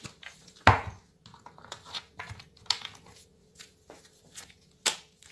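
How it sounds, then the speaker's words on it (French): A tarot card deck being cut and handled: a sharp snap of cards near the start, then a series of light papery taps, slides and shuffling clicks, close and fairly quiet, with no talking. "je vais faire une coupe avec le tarot"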